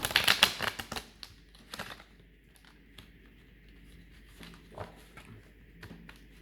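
Rapid crisp riffles and flicks of large oracle cards open the clip, followed by scattered soft taps and shuffling bursts in a quiet room.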